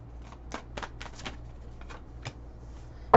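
Tarot cards being shuffled by hand, giving a series of short, soft riffling bursts at an uneven pace, fairly close and quiet, with a sharper clack at the very end.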